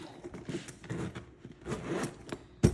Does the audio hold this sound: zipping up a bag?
yes